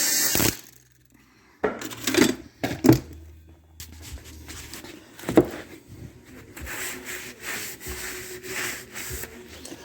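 A brake hone is used on a front end part of a 1958 Oliver 550 diesel tractor, giving intermittent scraping and rubbing bursts with brief metallic clinks between, close by.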